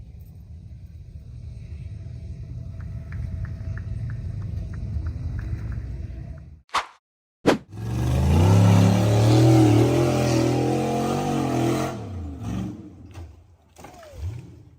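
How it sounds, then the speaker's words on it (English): An off-road buggy engine roars and revs hard while the buggy climbs a slippery, muddy forest slope. A low rumble runs through the opening seconds, then a brief near-silence gives way to a loud, sustained revving surge that fades toward the end. "The buggy hit the throttle hard and charged up the slippery, muddy slope."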